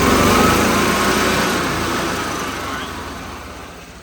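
An EZGO gas EFI golf cart engine cranks and sputters with the choke pulled out, a loud, steady mechanical churn that slowly fades over a few seconds, and a brief spoken remark sits over it.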